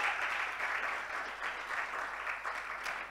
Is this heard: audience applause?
yes